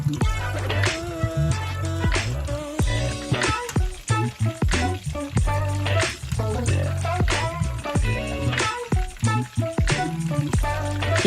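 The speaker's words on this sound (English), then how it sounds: "place battered chicken into the oil one at a time" Loud crackling and popping of battered chicken drumsticks frying in hot oil, irregular sizzling bursts with clinks and thumps throughout.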